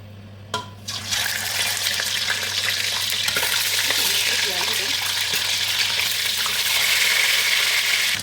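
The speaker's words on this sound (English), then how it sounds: "So let's go ahead and fry the fish." Fish fries in a pan of hot oil, a loud, steady, close sizzle that bursts in after a brief knock and keeps hissing continuously, with a low hum underneath.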